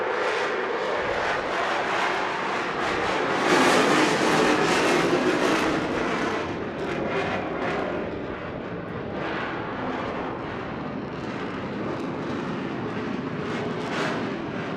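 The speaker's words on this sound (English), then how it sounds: "now he's going to show you the power that the engines have to accelerate away from the start point" An RAF Eurofighter Typhoon accelerates away at the Eastbourne Airshow in 2022, its jet engines producing a loud, continuous roar that swells and rumbles throughout.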